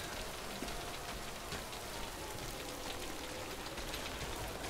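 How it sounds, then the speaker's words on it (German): Steady rain falls in the video game Death Stranding, a dense, even hiss of drops on surfaces that continues without a break and without voices. "Es regnet die ganze Zeit,"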